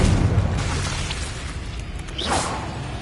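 A Confringo fire spell detonates in Hogwarts Legacy, a deep boom rolling over low rumble with a whooshing streak near the end, loud and close, no voices.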